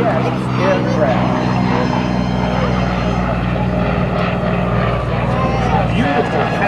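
An F4U Corsair propeller fighter makes a pass at the Andrews AFB airshow, a loud, sustained engine drone with a steady propeller hum that stays strong throughout, with crowd murmur and voices faintly underneath.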